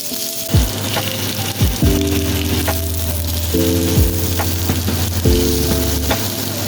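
Onions with ginger sizzling and frying in a pan for a crab and shrimp coconut-milk dish, a loud steady crackling hiss broken by occasional stirring scrapes, with no talking.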